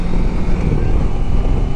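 A Kawasaki motorcycle rides along Corsican roads, with loud, rumbling wind-buffeted road noise roaring steadily close to the microphone for the whole moment.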